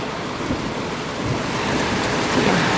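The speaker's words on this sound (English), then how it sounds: "That's Sideways Rain" A heavy sideways rainstorm roars as a dense, unbroken wash of wind-driven rain, loud and steady from start to finish with occasional gusty swells.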